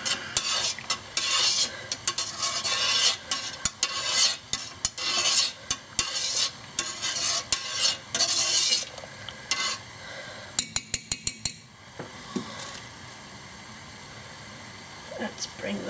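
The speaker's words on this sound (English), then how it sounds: "Right, let's stir this." Fabric is stirred by hand in a bath of Wiltons sky blue food colouring dye, giving busy sloshing, scraping and clinking for about ten seconds before a quick burst of sharp taps and a quieter stretch.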